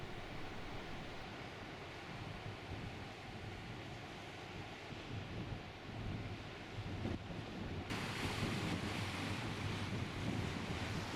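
Rough North Sea surf rolls onto wild, unspoiled Brora Beach beside a golf course, a loud continuous crash and roar of breaking waves mixed with strong wind noise that grows heavier toward the end.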